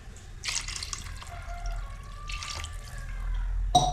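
Water poured into a pot of sambar with tamarind, two splashy bursts of pouring and a faint trickle in between, close and fairly quiet with no talk.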